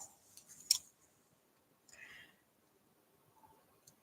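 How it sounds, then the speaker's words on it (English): Long scissors snip through card in a few short, sharp cuts, with a louder snip near the start and another brief cut a moment later, close and fairly quiet, with soft handling noises between. "Long scissors."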